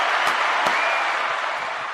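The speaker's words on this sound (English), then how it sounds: "Round of applause to the sis." Applause from a broadcast audience, a steady, dense wash of clapping throughout with a couple of sharper claps near the start.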